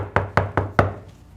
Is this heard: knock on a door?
yes